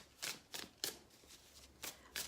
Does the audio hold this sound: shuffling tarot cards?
yes